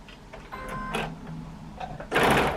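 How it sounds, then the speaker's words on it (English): A sewing machine stitches quilt block fabric for a country log cabin quilt, running in short mechanical bursts with a louder, denser run at the end, close and alone without talk. "get the two ends together, make sure they meet, and then just sew"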